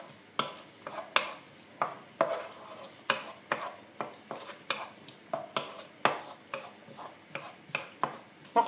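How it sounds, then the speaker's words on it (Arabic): Onion frying in olive oil in a pan, stirred with regular sharp scrapes and knocks about twice a second over a soft sizzle, close and with no talk. "نحط البصل، خليه يتقلب شويه. خليه يذبل البصل شويه."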